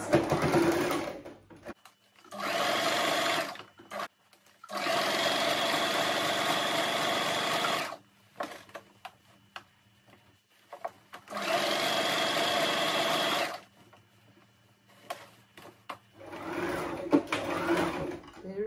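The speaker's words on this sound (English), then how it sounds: "you'll be seeing it when I'm sewing it on the sewing machine" A sewing machine stitching fabric for a ruffled turban hat runs in several sustained bursts of rapid whirring stitching, stopping and starting with quiet pauses between runs.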